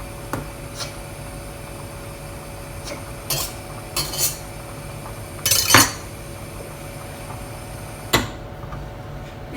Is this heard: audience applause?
no